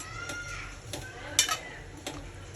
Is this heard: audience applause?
no